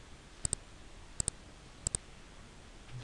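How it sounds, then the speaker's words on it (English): A computer mouse double-clicked three times at steady intervals, each a pair of crisp, close clicks over a quiet background hiss, with no talking. "I will double click it,"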